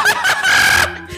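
A chicken in the Minecraft video game, spawned from a thrown egg, gives a loud, sustained, bright cluck-like call lasting about a second, then falls quiet.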